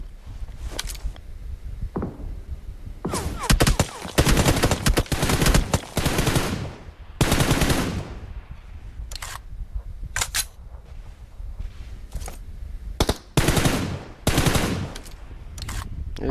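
Bursts of automatic and single gunfire in the PUBG Mobile battle royale game, loud rapid volleys separated by short pauses over a steady background, with voices talking at moments.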